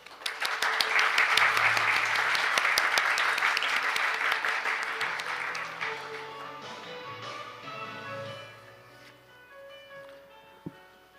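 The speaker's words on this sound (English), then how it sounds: "Please welcome him with a big round of applause." An audience at an international maritime forum applauds to welcome a speaker, a loud full burst of many hands that gradually fades over several seconds as murmured voices and faint tones remain.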